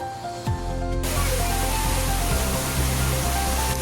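Water pouring down a brimming village stream, starting quieter for the first second then swelling into a steady, loud rushing roar that holds to the end, no talking.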